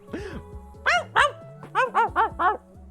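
A dog in Cult of the Lamb gives a single low bark followed by a quick series of sharp, higher yapping barks, loud and close.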